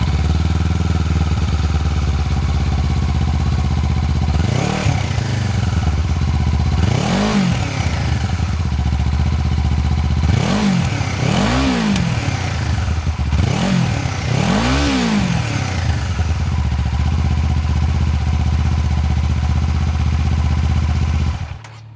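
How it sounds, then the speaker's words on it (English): A 2025 Kawasaki Z500 SE ABS motorcycle idles close by with a steady, loud thrum. Its engine is blipped in several sharp revs, some in quick pairs, each rising and falling back to idle. "A very simple transmission, a very simple engine, and this is how this motorcycle sounds."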